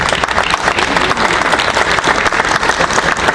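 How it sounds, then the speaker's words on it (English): Loud, steady applause from the audience at a boys soccer county championship awards ceremony, many hands clapping together close by for the whole stretch. "let's give the parents a round of applause"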